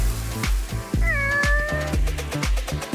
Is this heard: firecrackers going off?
no